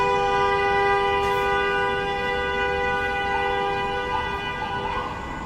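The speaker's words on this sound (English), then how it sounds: "Oh, I heard that ambulance, and I was like, I hope that's a cop." A sustained horn-like tone holds loud and steady on a downtown Toronto street at night, fading slightly over five seconds above a noisy traffic background.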